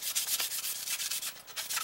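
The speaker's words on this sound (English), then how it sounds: "we need to sand it just real lightly with some rough grit sandpaper" A SnapBow stock is lightly sanded with rough grit sandpaper, producing a quick run of scratchy back-and-forth rubbing strokes, close and steady, with no talk.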